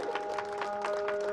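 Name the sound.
applause at a stage event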